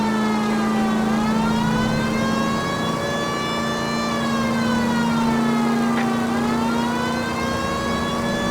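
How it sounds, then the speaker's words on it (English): A police car siren in the video game L.A. Noire wails, rising and falling continuously over a steady engine hum, loud and close throughout, with no talking. "we might get there quicker if you use the siren."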